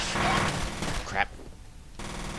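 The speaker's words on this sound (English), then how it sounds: "They just started shooting." Enemy gunfire in the PC shooter F.E.A.R., a dense burst of automatic shots for about a second and a half, then a sharp crack and a quieter lull before the din resumes at the end.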